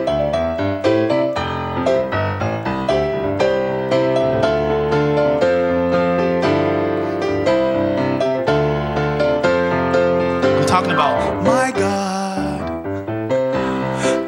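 Solo piano plays Amazing Grace in a 1970s style, with rich chords and melodic runs. The playing is close and clear, and no voices are heard.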